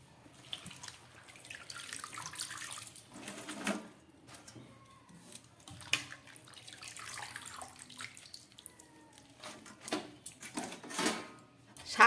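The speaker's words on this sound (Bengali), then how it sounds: "শাকগুলোকে খুব ভালো করে জল ঝরিয়ে নিলাম।" Water dripping and draining from washed, chopped Malabar spinach leaves in a kitchen, irregular splashes and trickles near and fairly faint, with soft handling noises and no talking.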